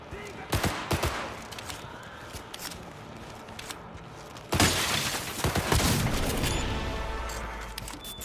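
Shotgun blasts in the video game Cyberpunk 2077 ring out loud and close, a quick double burst followed by a heavier volley later, all over a steady background rumble of game sound.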